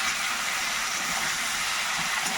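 Cauliflower and potato frying together in hot oil in a pan, a dense continuous sizzle and crackle held steady and close throughout.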